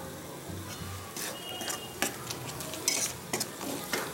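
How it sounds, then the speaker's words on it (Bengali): Chicken for kasha sizzles in a pan over medium heat while a utensil stirs it, making scraping and clinking strokes over a steady frying hiss, with no voices. "একটু নাড়াচাড়া করে নিয়ে"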